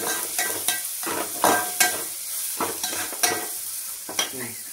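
Black masala being stirred into khichdi in a pan, a repeated close scraping and clinking of a spoon against the pan over a soft sizzle, rhythmic and without talk.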